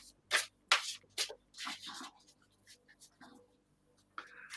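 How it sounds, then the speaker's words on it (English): Waite-Smith tarot cards being shuffled by hand, several brisk riffling bursts close by, then softer card handling with brief pauses. "One more quick shuffle."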